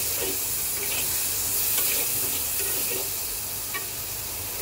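Ground spices with turmeric and coriander powder being stirred and lightly fried in a pan, a steady close sizzle broken by scraping stirs, for a thin ridged gourd and tengra fish curry.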